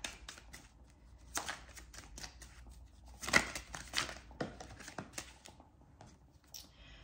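Tarot cards being shuffled by hand during a reading: soft, close riffling and flicking of cards in irregular bursts, with a few sharper slaps, quiet and alone.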